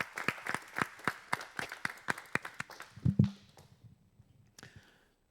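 A small audience at a medical talk on robotic knee replacement surgery gives sparse, distinct applause, the individual claps audible, before the clapping fades and a brief voice follows.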